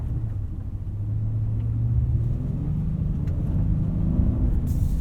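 A 2019 Honda Passport Elite AWD drives through deep snow at night, heard from inside as a steady, loud low rumble of engine and tires that swells slightly as it moves on.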